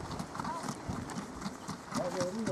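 An Icelandic horse moves in pace at a riding hall in Iceland, its hooves clip-clopping in a steady, quick rhythm under someone talking and a noisy indoor background.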